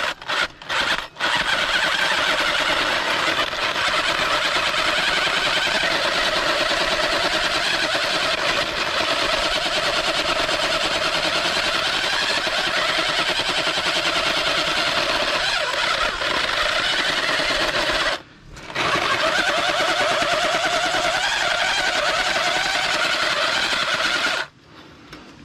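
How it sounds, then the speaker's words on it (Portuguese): A very fast electric drill, its chuck bent, bores a hole into earth while digging out a cave, giving a loud, steady high motor whine that cuts out briefly twice near the end. "A furadeira é muito rápida."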